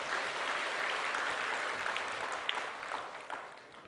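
A church congregation claps together during a Sunday sermon at a Full Gospel church in Incheon, a steady, dense wash of applause that holds for several seconds and tapers slightly at the end.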